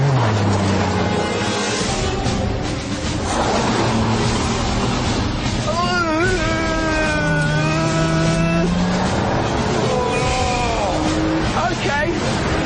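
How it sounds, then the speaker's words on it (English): An Alfa Romeo Spider drives on the road with a steady engine and road roar throughout, while a voice talks over it. "when you really start to shift, this Spider just gets all floppy and ragged"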